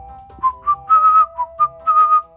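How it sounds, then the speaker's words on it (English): A person whistles a short, jaunty tune, a series of clear, close, loud notes in a bouncy rhythm, alone with no talk over it. "Oh, just having a whistle."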